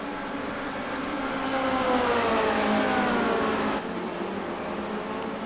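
Formula Renault 2.0 race cars in a sim racing game at Phillip Island, their engines blending into a loud, steady, high-pitched drone with rising and falling pitch as the pack runs close together, with no voices.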